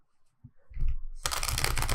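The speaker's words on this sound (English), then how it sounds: "let's do a quick shuffle for Cancer" Tarot cards are handled and then shuffled, starting with a few faint taps before a dense, close riffling rush that continues to the end, with no speech.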